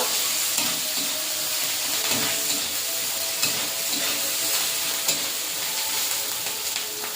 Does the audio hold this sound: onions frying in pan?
yes